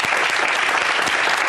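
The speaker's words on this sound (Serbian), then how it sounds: "Molim vas, jedan veliki aplauz za glumce." A theatre audience breaks into dense, loud applause for the actors, a continuous wash of many hands clapping close by.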